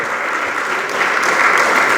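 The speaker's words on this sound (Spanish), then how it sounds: "Dele palmas al Señor." A church congregation claps together for the Lord during a sermon, the steady applause continuous and fairly loud throughout, swelling slightly toward the end.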